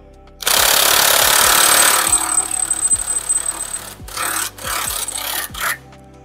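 A power tool refits a nut on the front suspension of a Peugeot 205, opening with a loud, sustained buzzing burst of about a second and a half, then trailing into shorter rattling bursts and brief pauses.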